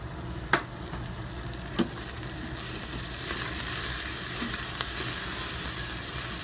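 Onions frying in oil inside an Instant Pot on sauté, a dense, steady sizzle with a couple of sharp clicks early on and continuous close crackling.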